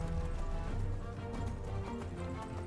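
A horse in a video game gallops along in a steady, close clip-clop of hooves. Dense game sound and music run underneath it.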